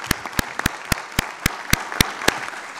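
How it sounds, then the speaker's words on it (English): Sharp, evenly spaced claps ring out one after another over a noisy room background, the slow rhythm of a small clapping crowd at a tech demo day event. "Can we give a big round of applause for our team?"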